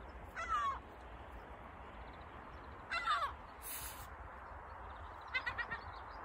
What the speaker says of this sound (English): Look at that beautiful seagull.